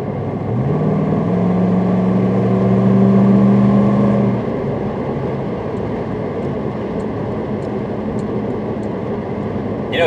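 A 1998 Jeep Grand Cherokee with a patched exhaust drives along, its engine drone rising in pitch and then settling into a steady hum with road noise, heard from inside and without talk.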